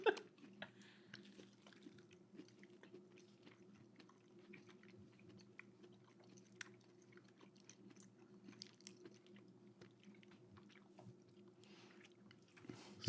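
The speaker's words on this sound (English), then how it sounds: "Daniel, You have to chew really closely to the mic to get the full experience" People chewing Cheetos right against the microphone, a continuous stream of close crunching and mouth clicks over a low steady hum, with no talking.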